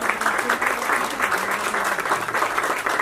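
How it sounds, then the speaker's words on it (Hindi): Loud, dense applause from a crowd at a book launch event in India, many hands clapping steadily for about three seconds with no break. "जोरदार तालियां हो जाए।"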